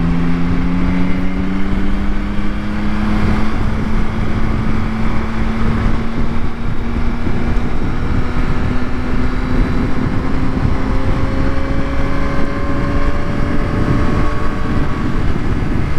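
A Yamaha Tracer 9 GT motorcycle engine drones loudly while riding, its pitch climbing slowly and steadily as it revs higher under constant heavy wind rush, with no talking.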